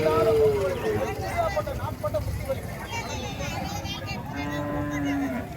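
Plough bulls lowing at a native cattle market in Matrapalli, Tirupattur, with long drawn-out moos rising over a busy background of crowd chatter and people talking nearby.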